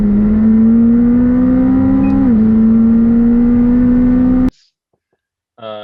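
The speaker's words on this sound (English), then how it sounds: "So that's this year's fastest car, the McLaren 765 LT." McLaren 765 LT sports car engine holding a loud, steady high-revving drone with a brief pitch dip midway, cutting off abruptly, then silence and a short tonal burst at the end.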